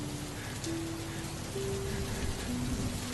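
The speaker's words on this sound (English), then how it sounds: "The rain patters against the windows." Steady rain patters against windows at night, a soft continuous hiss of drops with low sustained tones running underneath, even and unbroken throughout.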